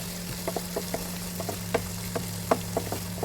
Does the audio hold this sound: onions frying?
yes